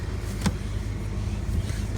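Van engine idling with a steady low rumble as the shifter is moved into drive; a faint click or thump briefly rises above the hum.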